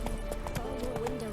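Roach the horse's hooves clip-clop on the ground in The Witcher 3, a quick, regular run of sharp, fairly close footfalls that goes on throughout.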